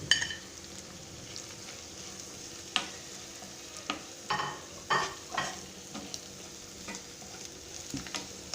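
A spoon scrapes and stirs tomato onion chutney in a pan over a soft, continuous sizzle, with irregular quiet clinks and strokes every second or so.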